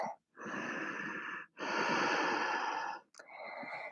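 Three long, loud, wheezy breaths through the nose and mouth during yoga child's pose, with a brief pause between each inhale and exhale, close to the microphone and with no speech.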